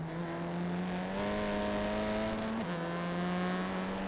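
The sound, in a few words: race car engine revving on the rev limiter in a sim racing video game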